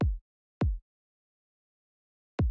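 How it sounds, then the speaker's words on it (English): Electronic kick drum, three dry punchy thumps with a quick pitch drop and short decay, the first two close together and the third after a long silent gap. "This is one of my kicks."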